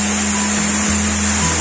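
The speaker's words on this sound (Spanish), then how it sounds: "está esta cascada que ha tallado la piedra de una forma sumamente curiosa" Quillollaco waterfall in Loja, Ecuador, where falling water has carved the stone: a steady, loud wash of rushing water with a low constant rumble, continuous throughout with no voices.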